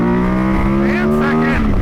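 A 2010 KTM 990 SMT motorcycle accelerates hard in first gear, its loud, close engine note climbing steadily in pitch over a couple of seconds.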